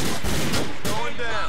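Gunfire from Grand Theft Auto 4 gameplay, a loud, dense burst of rapid shots running through a short moment, with heavy close-range blasts.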